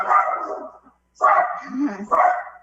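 A pet dog barks loudly and close by at home during an online village council meeting: two or three sharp barks separated by a pause, alongside a voice.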